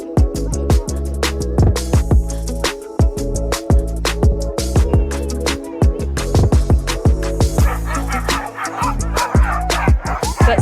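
A large pack of sled dogs at a kennel in the woods near Banff bark, yip and whine continuously before a run, a loud, dense, overlapping chorus of sharp calls from many dogs both near and far.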